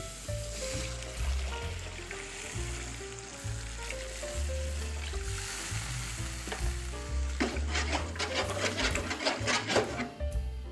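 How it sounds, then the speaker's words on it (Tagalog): Water added to a hot pan of cooked tuna sizzles and bubbles steadily, with crackling spatter growing more active toward the end; no talking. "Lalagyan natin siya ng tubig."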